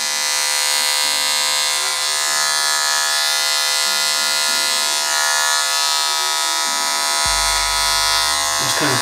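Magic Clip electric hair clipper buzzing steadily and close while fading a beard, with a brief drop in pitch near the end as the lever shifts the blade setting.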